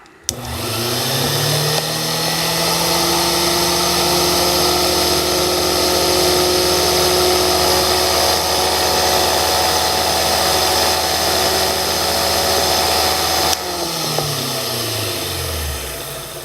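A power drill bores into a Corbin ASSA Abloy lock, running continuously and loudly for most of the clip, a steady whining grind that stops near the end, then spins down.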